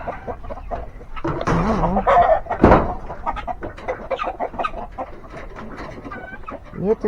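Chickens cluck and squawk around a farm, a busy, close mix of repeated clucks and louder squawks, with a burst of flapping or commotion partway through.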